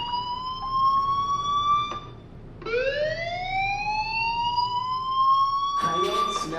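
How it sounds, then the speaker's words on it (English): A rising, wailing alarm tone from the video game Life Is Strange, sounding loud and steady with bright stacked harmonics, dropping out briefly before sweeping back up; a harsh noise burst lands near the end. "do you hear that fire alarm?"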